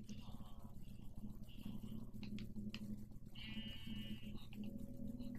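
Bleating of a sheep in the video game Minecraft, a few short cries over steady game music, with a person talking throughout.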